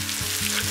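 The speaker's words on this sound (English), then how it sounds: "I'm going to add 2 green chillies sliced and handful of curry leaves" Sliced green chillies and curry leaves fry in ginger garlic paste, a dense, close sizzling hiss over a low electrical hum, brief and continuous without voices.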